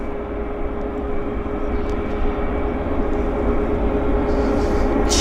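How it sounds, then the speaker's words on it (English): A WestJet airliner taxiing at Vancouver airport, a steady engine rumble with a constant whine, close by and growing slightly louder toward the end, with no talk. "we got another WestJet taxiing out right here in front of us"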